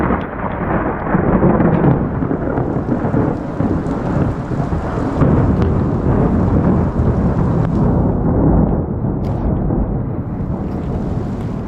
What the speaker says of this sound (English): It didn't take long until thunder wanted to join.